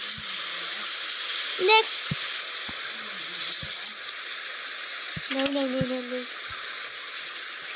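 Water runs steadily from a shower or tap while someone washes their hair with blue conditioner, making a constant hiss broken by brief clicks and short bits of speech.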